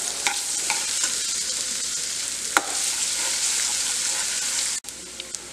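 Finely chopped garlic sizzles steadily in hot refined oil while being sautéed light brown for Schezwan sauce, with occasional stirring clicks from a spoon against the pan and no speech.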